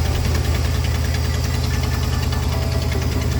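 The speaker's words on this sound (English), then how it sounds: "If you listen closely, you can hear what sounds like a bit of an exhaust leak." A 1991 Ford F-150 idling with a slight exhaust leak, giving a steady low rumble with a fine rapid ticking pulse throughout, close and constant with no talking.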